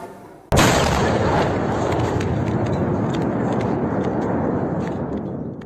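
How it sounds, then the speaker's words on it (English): Sudden booming explosion from shelling in Kyiv, one loud onset after near silence, then a dense sustained rumble with scattered crackles that slowly fades. "A booming explosion."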